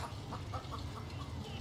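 A chicken in the video game Baldur's Gate 3 clucking in a few quick, faint clucks over a steady low background hum, no speech.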